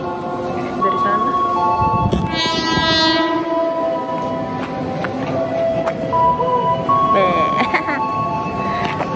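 A commuter train rumbles in steadily, its horn sounding a long blast early on and again near the end, loud and close over the rolling noise.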